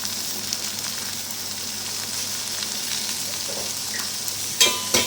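Round slices of bitter gourd sizzle and fry in a pan as they are stirred, a steady soft crackle with a sharper scrape of the utensil near the end.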